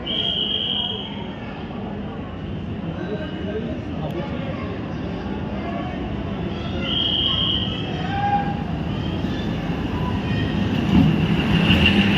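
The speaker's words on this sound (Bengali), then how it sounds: "ওই যে বারামুল্লা থেকে ঢুকছে ট্রেন" A train from Baramulla pulls into the station with a continuous rumble and rolling clatter, and high metallic wheel squeals rise at the start and again midway, under a crowd of nearby voices.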